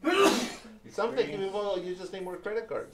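One sharp human sneeze bursts out at the start, and then a person talks steadily.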